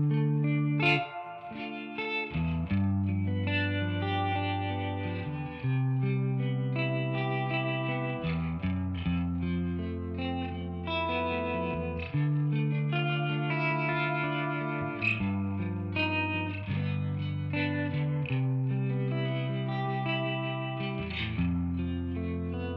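Guitar phrases ring through Arturia delay plugins, each note trailing into repeating echoes and chorus-like shimmer, played alone at moderate level with sustained overlapping tails and no speech.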